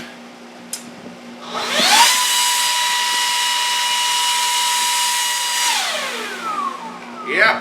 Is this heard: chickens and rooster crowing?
no